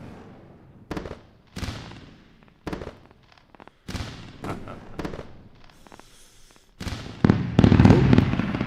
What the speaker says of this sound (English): We need to hear those fireworks.